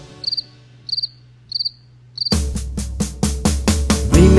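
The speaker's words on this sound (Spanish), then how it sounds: "Dime si tú sabes cómo hace el grillo." A cricket chirps alone in four short, evenly spaced high trills, then a loud rhythmic musical beat takes over.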